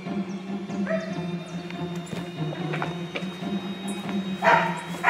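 A dog barking at someone at the gate of a house, short sharp barks and yips that repeat irregularly over a low steady hum of background noise, fairly close, with no talk.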